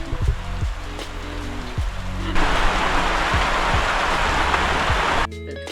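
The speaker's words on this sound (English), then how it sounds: "We just had to run back because it's raining." Rain pours down in a forest at Mt Kenya, a dense steady hiss that swells louder partway through, with low rumbling thumps beneath and a sudden change near the end.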